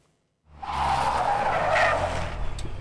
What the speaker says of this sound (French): Démonstration de pilotage avec la GR Yaris Hydrogène.